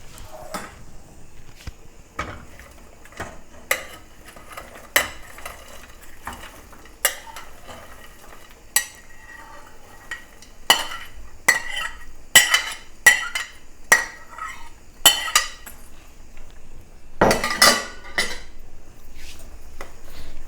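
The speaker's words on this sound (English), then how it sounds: "And then just stir it in. And it'll all get mixed in." Okra being stirred into spicy chicken in a pot, with scattered clinks and scrapes of a utensil against the pot, sparse at first and busier later, and a faint sizzle underneath.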